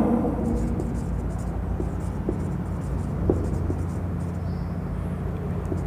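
A number written by hand during a maths lesson on linear equations: soft, continuous scratchy strokes with a few small taps, faint beneath a steady background rumble and hiss.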